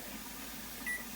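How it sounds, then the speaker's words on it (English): A kitchen timer gives a single short, clear beep as it is set for baking, with the oven already preheated; the beep rises briefly over a steady low kitchen hum. "I'm gonna set the timer at"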